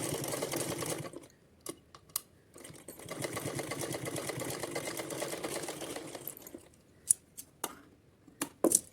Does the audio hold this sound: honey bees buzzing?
no